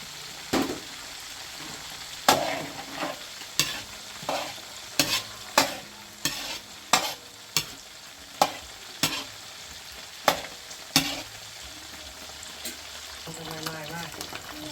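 Egg, pork, shrimp, squid and carrot stir-fried together in one pan, a spatula scraping and clanking in a regular rhythm of about a dozen sharp hits over a steady sizzle, heard up close.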